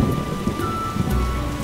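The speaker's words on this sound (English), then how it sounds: "What a downpour." Heavy rain pours down during a storm in The Witcher, a dense hiss of drops on surfaces with low rumbling thunder rolling underneath and a faint steady tone running through it, no talking.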